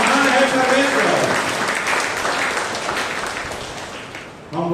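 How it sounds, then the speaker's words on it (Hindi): A church congregation claps together in a broad, sustained burst of applause that slowly tapers off before a voice cuts back in at the end. "ताली बजाइए प्रभु"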